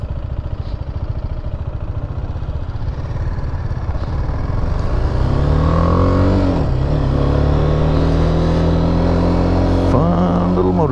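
A BMW G310R single-cylinder motorcycle idles with a steady low thrum, then revs and pulls away in rising and falling engine sweeps, loud and close, with no talking.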